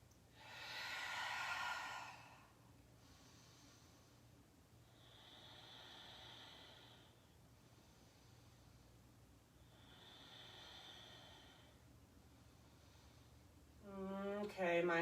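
Breathy exhales out the mouth during a slow yoga session: a loud airy breath at first, then two softer, longer exhales spaced apart, with a voice near the end.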